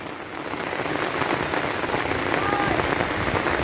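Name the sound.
rain falling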